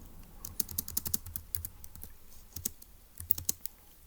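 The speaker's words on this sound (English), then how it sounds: "Let's actually type that out." Quick bursts of clicky keystrokes on a computer keyboard, close and fairly quiet, with brief pauses between runs of typing.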